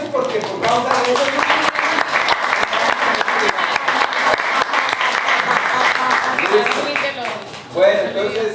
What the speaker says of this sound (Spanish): vamos a darle un fuerte aplauso a ellos